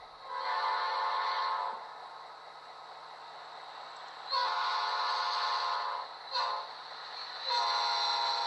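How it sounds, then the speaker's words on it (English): Automatic Doppler horn of an HO scale Amtrak F40PH model train, a loud multi-chime blast that drops in pitch, followed by shorter repeated horn blasts, with no talking. "It also has an automatic Doppler horn."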